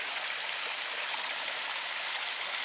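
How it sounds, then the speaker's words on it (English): Steady rushing hiss of a small waterfall splashing down a rocky cliffside in the woods, running continuously and close by with no voices. "The water is running actually pretty good."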